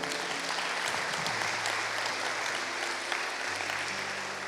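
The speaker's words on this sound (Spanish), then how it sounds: "Dale un fuerte aplauso al Señor" A church congregation claps for the Lord, a steady wash of applause lasting the whole few seconds at moderate distance, with a low sustained tone underneath.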